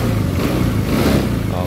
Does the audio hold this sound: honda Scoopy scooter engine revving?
yes